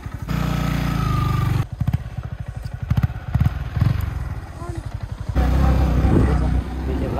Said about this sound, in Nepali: बाइक हान्दैछ